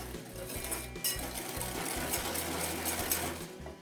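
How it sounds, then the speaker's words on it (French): Steady, fast rattling of a whisk creaming butter and sugar in a bowl for a tart dough, a dense continuous churning texture running the whole time with no talk. "Je mélange avec le fouet, je crème quelques instants."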